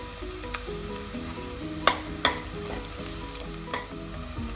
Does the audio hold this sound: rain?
no